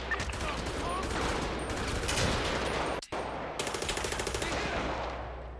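Rapid automatic gunfire from GTA V rattles in dense bursts during an in-game heist shootout, with a brief gap midway before another stuttering volley of shots resumes.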